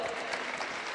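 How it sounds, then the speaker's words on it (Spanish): Audience clapping for a barista at a 2013 presentation, a dense continuous patter of many hands filling a short burst, moderately distant. "¡Un aplauso!"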